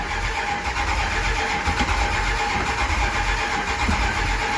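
A 1967 Plymouth Barracuda engine cranking and struggling to start, a loud, steady, continuous churn close by with no clear catch.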